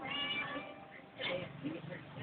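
A cat meows a few times, close by, with soft background noise between the calls.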